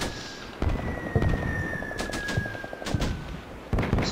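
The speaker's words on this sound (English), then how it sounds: "My fire missions coming down on top of that" Artillery fire mission impacts in the Combat Mission Shock Force war game: repeated dull thuds and cracking blasts at irregular intervals, middle-distance, over a steady background rumble and a faint whining tone.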